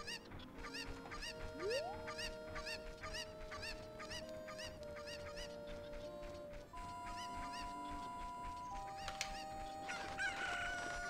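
Chickens clucking and crowing in the video game Ocarina of Time, with repeated stacked cackles and crow-like calls layered over steady game background music throughout.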